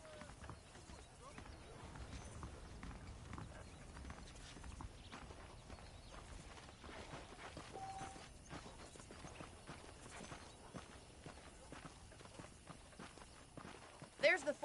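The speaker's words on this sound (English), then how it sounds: "The horses are saddled up over here." Horse hooves clip-clop at a walking pace in the Red Dead Redemption video game, a steady soft rhythm of hoofbeats under a voice talking throughout.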